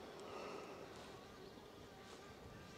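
A drone flying about 100 metres overhead gives a faint, steady high buzz like an angry bee, distant and continuous throughout.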